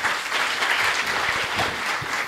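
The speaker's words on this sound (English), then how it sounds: "another round of applause" An audience at a youth business pitch launch event claps in a dense, even burst of applause that holds steady throughout without any talk on top.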